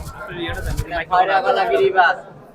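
Pigeons coo at an open-air village market where high-flyer pigeons are sold, with low, soft calls blending into the crowd and close voices talking over them throughout.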